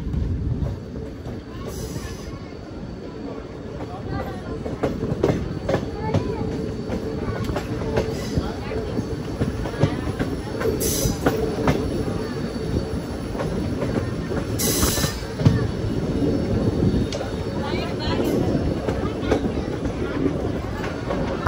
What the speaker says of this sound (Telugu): హాఫ్ సర్కిల్ అయితే కొడుతుంది చూడండి మన ట్రైన్.